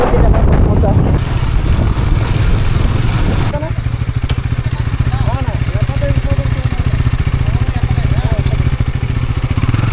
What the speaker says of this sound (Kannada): ಗಾಳಿ ಭಾರಿ ಐತಿ